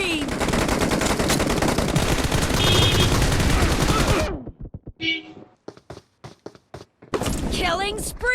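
Automatic rifle fire from an AKM or Groza in the BGMI mobile shooter, a loud sustained burst of rapid shots that cuts off, followed by a few separate clanks and thuds and then more firing.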